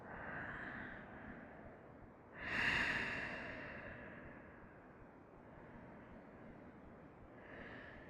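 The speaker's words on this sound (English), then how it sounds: "Couple of big breaths, just relax, just breathe." Slow deep breaths from a person resting in a yoga pose, with one long, louder exhale that swells and fades, surrounded by soft breathing in a quiet room.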